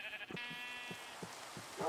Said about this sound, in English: That's what sheep say